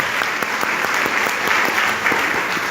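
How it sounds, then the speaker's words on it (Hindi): Audience at a business plan seminar breaks into a brief, steady burst of applause for the chairman, dense clapping filling the room with no talk over it. "एक बार सर के लिए ताली बजाइए जबरदस्त"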